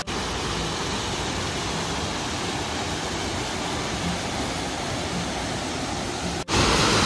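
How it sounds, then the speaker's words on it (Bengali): Borhill waterfall near Dawki Lake in Meghalaya, its water falling from above into the lake, gives a steady, dense roar that stays loud and unchanging throughout, with a brief dip near the end. "ওই উপর থেকে দেখো ঝর্ণার জলগুলো পড়ছে।"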